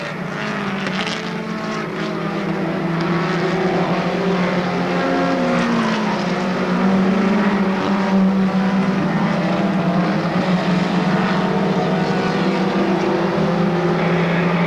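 Stock race cars roar around the oval at Monadnock Speedway during weekly racing, their engines loud and continuous, pitch rising and falling as the leaders pass close by.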